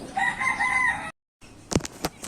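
A rooster crows once, loud and close, with a drawn-out call; after a short silence a few sharp clucks and calls follow.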